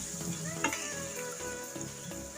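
Ginger, garlic and cumin fry in hot oil for a fish curry, giving a steady close sizzle with scattered small crackles and a soft stir, with no one talking.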